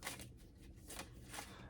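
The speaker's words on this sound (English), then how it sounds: "As I started shuffling cards," Playing cards shuffled in a few short riffling bursts, close and fairly quiet, with no talking.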